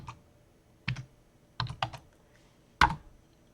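Keystrokes on a computer keyboard entering a password, quiet and close, in a few separated bursts of clicks with pauses between them.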